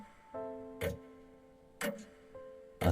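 Clocks tick in a clockmaker's workshop, three sharp ticks about a second apart over a steady low hum, fairly close and otherwise quiet.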